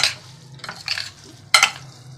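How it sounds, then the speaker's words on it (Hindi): Yogurt vermicelli mixed with jaggery being stirred in a pot, giving a few soft, close scraping and swishing strokes with a sharper scrape near the end and no voices. "ये देखिए ऐसे अच्छी तरह आपने मिक्स कर लें"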